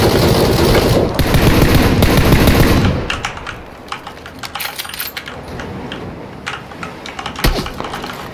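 Gunfire in PUBG: Battlegrounds, a dense continuous burst of rapid shots for a few seconds, then scattered single cracks and clicks, loud and close, with no talking.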